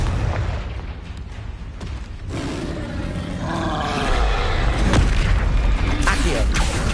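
Fiery Confringo spell blasts in the wizarding game Hogwarts Legacy, heavy booming explosions and rumbling roars that build louder toward the end, with voices underneath.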